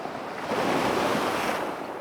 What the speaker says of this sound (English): And those waves are really crashing.